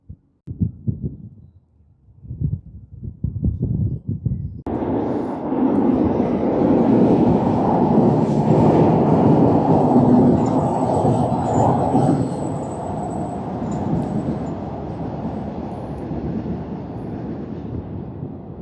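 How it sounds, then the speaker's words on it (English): A loud, rumbling roar of a train crossing a Forth bridge overhead starts abruptly after a few faint knocks and holds steady, slowly easing toward the end. "It really is quite noisy when a train goes over."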